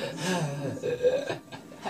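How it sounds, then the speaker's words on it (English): Someone lets out a drawn-out, throaty burp close to the microphone, then a few short breathy snorts and chuckle-like sounds follow. "Burp, burp."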